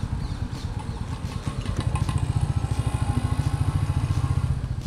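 A motorcycle engine thrums steadily during a ride along a Chennai beach road, a close, loud, rhythmic low pulse that holds throughout with no talking.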